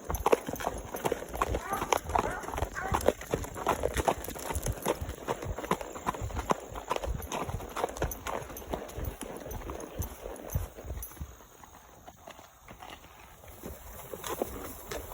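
Several horses walk along in a pasture, their hooves clip-clopping in a close, irregular rhythm that runs steadily throughout, while someone talks over the sound.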